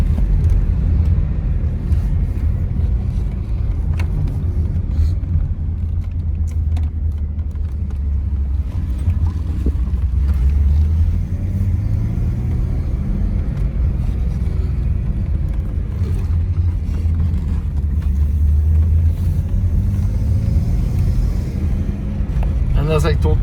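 A classic Chevrolet car with a 250 six-cylinder engine drives along, its steady low engine rumble and road noise continuous throughout, with wind buffeting the microphone and no talk.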